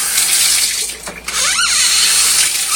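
Water gushing from a faucet into the sink of a 2004 Ameri-Camp LE travel trailer, a loud steady hiss that dips briefly mid-flow and then resumes strongly, with no talk.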